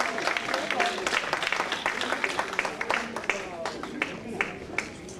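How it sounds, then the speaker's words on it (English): Scattered applause for initiates at a rites of passage ceremony, with distinct individual claps standing out of a moderate crowd and voices heard among them. "Please give another round of applause for all our initiates."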